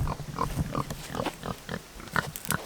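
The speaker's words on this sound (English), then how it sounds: "So here's our buds, the pigs." Pigs on a homestead, kept inside a fenced perimeter, grunt in short, irregular bursts close by, with soft snorts between them.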